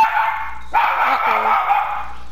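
A dog barks and yips close by indoors in a gamer's room, a short burst of rough barking over a low background hum.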